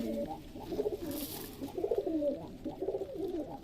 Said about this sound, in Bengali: খাবার দেওয়া মাত্র সকল কবুতর নামতে লেগেছে